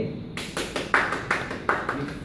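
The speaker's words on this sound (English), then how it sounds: "Give her a round of applause" A small group gives a round of applause for a guest during a hotel rooms training session, a few sparse, rhythmic claps spaced about every third of a second, close and moderately loud.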